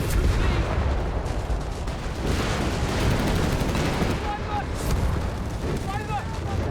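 Heavy booms and rattling gunfire pile on top of one another in a dense, constant battle din in Company of Heroes 3, with no break in the noise.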